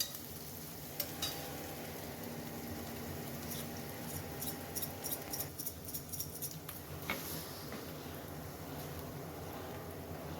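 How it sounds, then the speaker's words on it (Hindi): Small chopped onions frying in a pan until light pink, with a steady soft sizzle and occasional stirring scrapes and clicks, close and quiet, no talking. "इसे हम हल्की पिंक होने तक भूनेंगे।"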